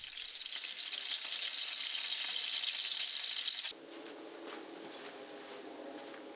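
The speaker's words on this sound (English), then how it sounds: "The sauce turns white when he adds the oil and stirs diligently." Fish sauce sizzles loudly as oil is added in a Romanian kitchen, a dense hissing fry that cuts off abruptly midway and gives way to quieter stirring and scraping.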